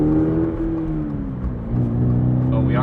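A 2022 Toyota GR86 engine drones steadily from inside the cabin with artificially piped-in engine noise, a low harmonic hum that dips and rises in pitch as the car accelerates, with speech heard near the end.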